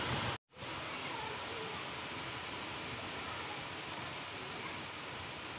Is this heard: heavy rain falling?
yes